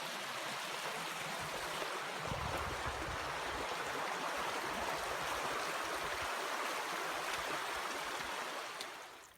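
Black Whale Creek on the Appalachian Trail runs in a loud, steady rush of flowing water, constant throughout and fading slightly at the very end, with no voices over it.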